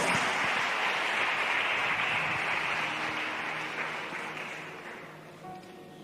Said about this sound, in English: Let us clap our hands and welcome Pastor Alvin Thomas.